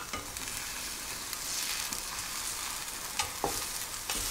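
A spinach omelette fries in a pan with a steady, even sizzle that stays moderately quiet throughout, with a few soft stirring clicks and no voices.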